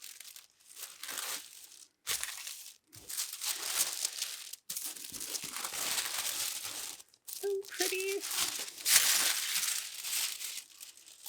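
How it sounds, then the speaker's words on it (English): Tissue paper crinkles and rustles in bursts while a planner sticker subscription kit is unboxed, close and loud, with short pauses between handfuls and someone speaking briefly over it. "Okay, tissue paper out of the way."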